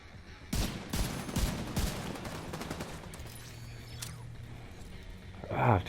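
Gunfire in a shooter video game breaks out as a quick cluster of sharp shots and bursts early on, followed by a softer tonal hum and a rising whoosh at the end.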